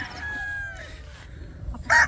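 A rooster crows once at a gamefowl farm, a drawn-out call followed by a sharp louder burst near the end, fairly close and alone.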